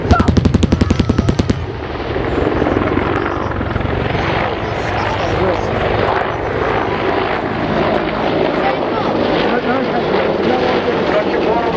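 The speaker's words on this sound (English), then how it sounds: "watch gunship 1 tip into the engagement with 30mm cannon" Rapid cannon fire from a gunship aircraft's 30mm gun at a Cosford air show opens with a fast burst, then gives way to a loud sustained roar of aircraft engines and crowd ambience with no clear talk.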